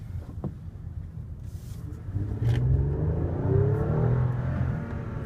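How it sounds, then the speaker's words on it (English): A 2014 Lexus ES350 with a front-wheel-drive 3.5 liter V6 accelerating, heard from inside the cabin as a low engine drone that swells and rises in pitch, staying steady and fairly loud under light road rumble. "So we'll go ahead and get a nice acceleration run here."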